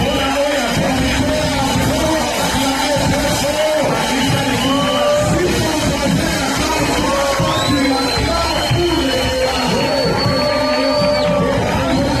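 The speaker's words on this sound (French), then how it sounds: "Voilà, c'est comme ça qu'on peut acclamer pour celui qui nous a accordé encore le souffle de vie" A church congregation at a Sunday thanksgiving service cheering and acclaiming: loud, continuous crowd noise with shouts, whoops and rising high-pitched cries layered over one another.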